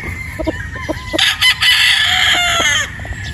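A pure Boston Roundhead gamefowl rooster gives a single loud, close crow lasting under two seconds, with a few short clucks before it and soft clucking after.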